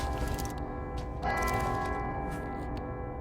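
A bell tolls inside a video game, struck once near the start and again around the middle, with a sustained ringing tone over a steady background hum and no voices.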